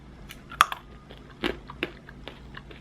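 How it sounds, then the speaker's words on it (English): A spicy chili almond bitten and chewed close to the mouth, a sharp first crack followed by several crunchy chews, dry and intimate with no talk. "It's kind of like a frustrated crunch."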